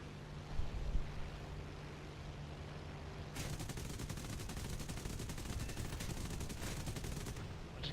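P-38 fighter's machine guns in War Thunder, a rapid rattling burst of gunfire over steady engine drone that starts partway through and continues almost to the end.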